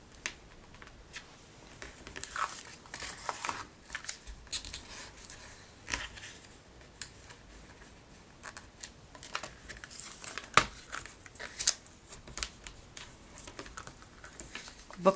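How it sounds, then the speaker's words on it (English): Paper being creased and folded for a greeting card craft kit, with soft crinkling and sharp pressing rustles scattered irregularly throughout, close and fairly quiet, with no talking. "Give it good creases before you fold it all the way over."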